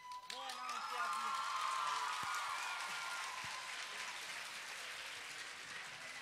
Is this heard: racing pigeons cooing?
no